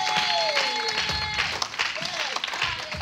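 A church congregation applauds and cheers during a worship service, with a dense wash of clapping mixed with shouting voices and rising and falling whoops throughout.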